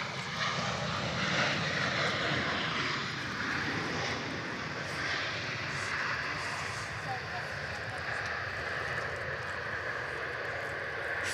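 A large airliner arriving at Melbourne Airport rumbles steadily overhead at moderate distance, a broad jet engine roar that lingers while people talk quietly nearby.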